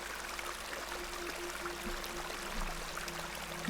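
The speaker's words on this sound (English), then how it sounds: "This is a lovely little beck." A small babbling beck in Excavation of Hob's Barrow flows with a steady, soft trickle of water, quiet and continuous, with a faint low hum beneath and no voices.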